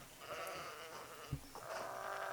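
Sheep bleat during a sheepdog herding session in a field, several wavering calls overlapping at moderate distance against steady outdoor background noise, with a brief low thump in the middle.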